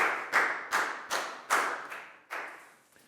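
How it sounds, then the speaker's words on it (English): A classroom of students claps for a classmate in a few loud, rhythmic bursts, roughly six hand claps that fade quickly, with no talking over them. "Big round of applause for Bangbon."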